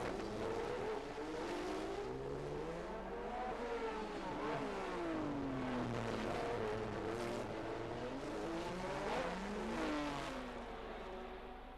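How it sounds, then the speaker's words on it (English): Several 1971 Formula 1 racing cars roar through the narrow streets of Monaco, their high-pitched engines rising and falling in overlapping sweeps as they pass and echo off buildings, loud and continuous throughout. "the whole of the Principality vibrates to the sound of a crocodile of cars, engines echoing through the narrow streets"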